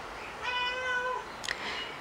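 A cat gives one clear, drawn-out meow followed by a brief chirp, close by against a quiet background.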